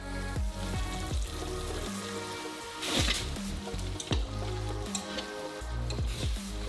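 Sugar caramel cooking in a pot for homemade Snickers, a steady close sizzle and bubbling with a few louder spattering bursts, running continuously with no voices.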